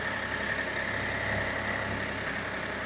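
Engine of a 2024 fourth-generation Maruti Suzuki Swift being revved, a steady low rumble held close and even for a few seconds with no clear rise in pitch.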